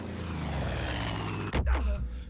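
Propeller airplane in the video game Far Cry 5, a steady loud engine drone that cuts off abruptly into a brief burst of crash or impact noise.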